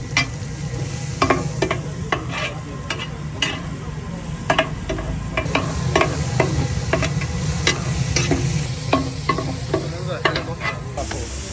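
Fresh camel liver fries with a steady sizzle in a hot pan, under repeated sharp scraping and clacking of a utensil stirring it, close and loud throughout.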